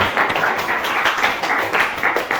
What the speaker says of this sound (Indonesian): Beri tepuk tangan untuk Wisma dan Ame.